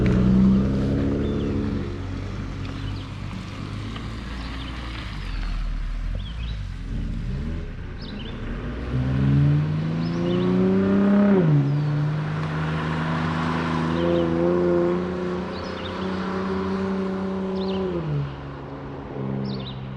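A car comes wheeling around a corner at top speed during a movie shoot, its engine revving up and dropping in pitch through gear changes, loud and close, with a tire skid.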